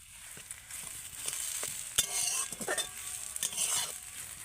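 Potato filling with coriander leaves stirred in a wok, with brisk scraping and tapping strokes over a light sizzle, close and steady, no talking.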